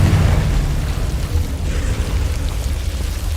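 Confringo blasting spell from Hogwarts Legacy bursting in a continuous heavy, rumbling roar that stays loud and dense throughout, with low booming energy and crackling debris over it.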